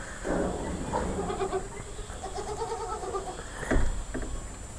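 Young goat kids bleat nearby in a pen on a goat farm, several wavering cries in succession over a background hum, with a thump near the end.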